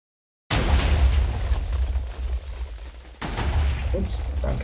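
A TNT cannon fires in Minecraft, a loud blast that rumbles and decays for a few seconds, then a second explosive burst follows with crackling debris.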